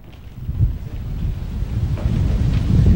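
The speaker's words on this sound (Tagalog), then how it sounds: "nakakaranas tayo ng malakas na bayo ng hangin" Strong typhoon winds batter Isabela, a low rumbling gust noise buffeting the microphone and swelling steadily louder, with rain mixed in.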